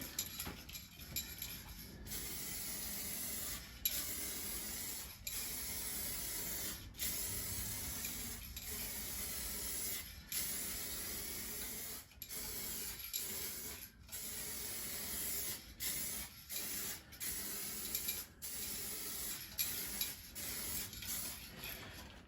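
Spray paint hisses continuously in long passes over a Jeep Patriot quarter panel, with brief gaps and faint clicks between strokes.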